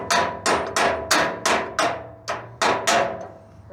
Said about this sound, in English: Here comes the ugly hammer again.